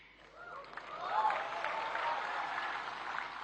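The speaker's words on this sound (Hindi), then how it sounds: "पुरुष ताली बजा रहे हैं" Men in the audience at a National Creators Award ceremony applaud, sustained clapping from a crowd that swells and holds steady, moderately loud with no speech over it.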